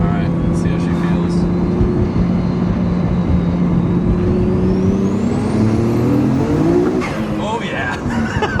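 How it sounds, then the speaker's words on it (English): A 1,000-horsepower Nissan Skyline accelerating hard in second gear, heard from inside as a loud engine roar climbing steadily in pitch, with a turbo whistle rising above it and a gear change near the end, under occasional talk. "Bro, I'm spinning all 4 wheels."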